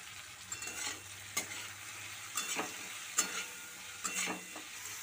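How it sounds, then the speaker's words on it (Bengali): Chopped tomato, turmeric and salt are stirred and fried in a pan for a dhaba-style egg curry, a faint steady sizzle with a spoon scraping through it at intervals of about a second. "টমেটোটা নরম না হওয়া পর্যন্ত ভালো করে কষিয়ে নেব।"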